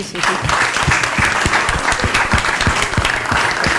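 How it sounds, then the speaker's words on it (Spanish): Loud, close applause from an audience, dense clapping from many hands that fills the room and stays steady from start to finish. "Sí, un aplauso, sí."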